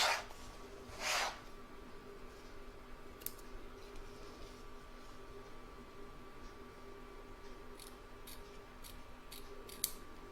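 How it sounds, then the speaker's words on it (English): Scissors trim embroidered fabric held in a hoop, with two faint snips at the start followed by soft, scattered clicks and ticks in a quiet room. "and trim up along here."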